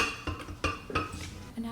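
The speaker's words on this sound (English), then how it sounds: "I'm going to go ahead and put the acai and cherries into the blender." Frozen acai and cherries dropped into a blender jar, several sharp hard clunks and knocks in an irregular rhythm, close and fairly loud, with no talk.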